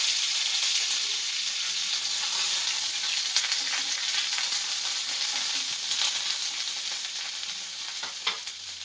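Chana dal, urad dal and curry leaves frying in hot oil for a bean palya, a loud steady sizzle with occasional crackles and a light stir, close and without talk.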